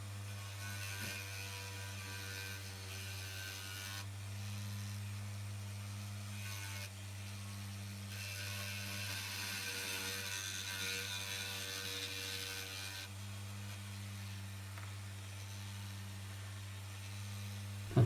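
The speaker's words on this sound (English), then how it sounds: "I'm just going to start off by using one of these little honing tools" A small honing tool works a carved wooden ship mast, giving a steady buzzing, grinding hum that runs continuously and fairly close, with a slight shift in texture partway through and no talk.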